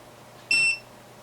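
A single electronic beep from a soldering iron shutting off, a clear high tone lasting about a quarter second, sounding alone against a quiet background.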